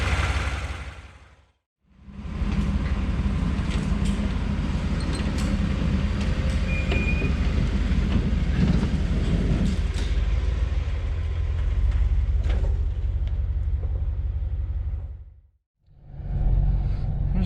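Steady engine and road rumble from a vehicle with an 8L90E automatic transmission being driven, a continuous low drone that fades out briefly near the start and end.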